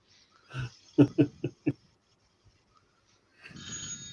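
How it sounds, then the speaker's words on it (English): A phone rings indoors, giving four short, evenly spaced rings close by, followed by a pause and then a brighter burst of ringing tone. "That'll be your phone, Mark."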